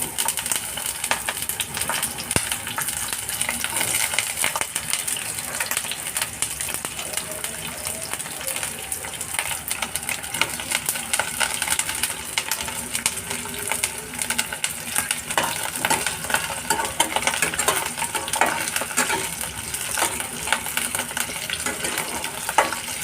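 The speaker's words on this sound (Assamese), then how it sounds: "ফুলকবিখিনি অলপ ভাজি ল'ম" Cauliflower frying in a few spoons of hot refined oil in a wok, a dense continuous sizzle and hiss with occasional light clinks and stirring, close and fairly loud throughout.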